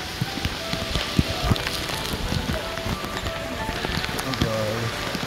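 Heavy rain pours steadily over a flooded street, a dense continuous patter of drops on water and surfaces with scattered louder splashes, while voices talk intermittently underneath.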